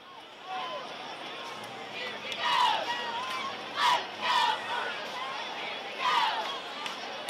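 Crowd in a high school football stadium during the coin toss at a homecoming game between the Rudder Rangers and Huntsville Hornets: steady distant murmur with several swelling cheers and shouts rising and falling.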